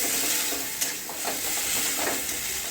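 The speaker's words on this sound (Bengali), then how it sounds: "মশলাটা কষা হচ্ছে" Masala spice paste sizzles steadily while being sautéed in a pan for an egg omelette curry with potatoes, a dense frying hiss broken by a few scraping stirs, with no talk.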